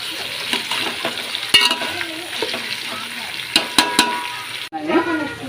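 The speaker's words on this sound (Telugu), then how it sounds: "ఇవన్నీ మంచిగా కలుపుకున్నామండి." Chopped vegetables, including carrot, eggplant and tomato, are stirred in a pot for Chennai sambar, giving a steady scraping and sizzling bed with several sharp utensil knocks against the pot near the end.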